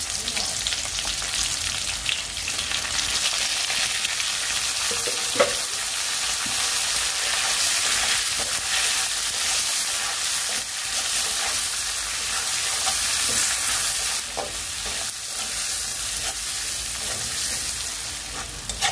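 Chopped onion and whole spices fry in oil in a pot, a steady bright hiss with occasional light stirring taps, continuous and fairly close.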